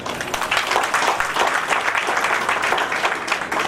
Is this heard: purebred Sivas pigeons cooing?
no